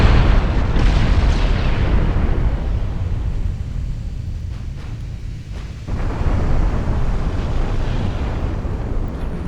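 Torpedoes exploding against the pre-dreadnought battleship Mikasa in a naval combat game, heard as a sustained, loud, low roaring rumble that dips briefly before swelling again.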